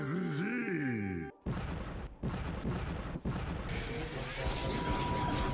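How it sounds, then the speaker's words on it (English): Cannons fire from a ship in a One Piece anime battle. Loud booming blasts and crashes come in quick succession over a dense, chaotic mix of noise, with the anime's voices talking through it. "All the cannons from the ship didn't do anything."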